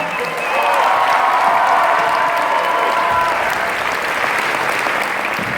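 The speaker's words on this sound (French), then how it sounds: "on les applaudit très fort" Loud, sustained applause from an audience in the Saint-Pierre des Cuisines auditorium after a cantata performance, a dense steady clatter of many hands, with a voice briefly audible at the start.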